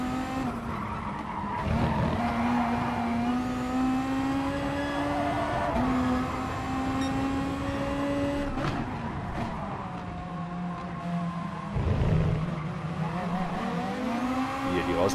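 A VW Beetle GT3 races around Tsukuba Circuit in Gran Turismo Sport, its engine rising in pitch through the gears as it accelerates out of corners, with tire screech and someone talking over it.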